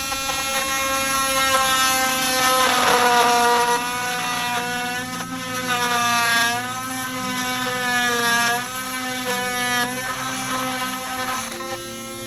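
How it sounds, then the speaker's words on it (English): An oscillating multi-tool shaves the metal washer flange off a Swiss Wenger bag's wheel, a loud steady high-pitched buzzing whine with slight wavering as pressure shifts, continuous and close with no talking. "I'm actually just going to shave that off with the oscillating tool."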